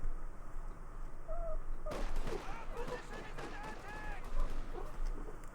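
A gunfire skirmish in Company of Heroes 2 between Wehrmacht and US forces, with dense small-arms fire starting abruptly about two seconds in and rattling on at moderate distance, accompanied by other battle effects and intermittent speech.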